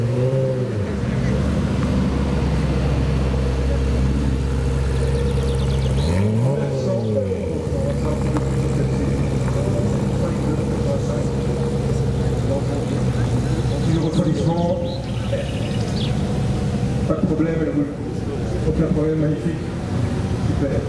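A 1991 car with a 300-horsepower engine idles and rumbles with a deep, steady low drone, briefly revving partway through, while people talk close by over the engine noise.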